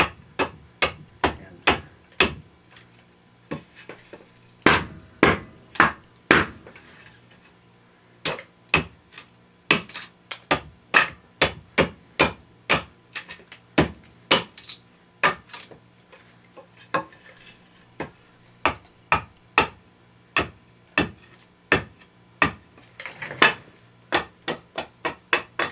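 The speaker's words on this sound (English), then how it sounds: "I'm using the carpenter's hatchet" Carpenter's hatchet chopping excess wood off an axe handle, a long series of sharp, close knocks in irregular bursts with brief pauses between strokes.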